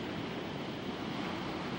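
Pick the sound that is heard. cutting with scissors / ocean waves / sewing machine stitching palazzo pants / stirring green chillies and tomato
ocean waves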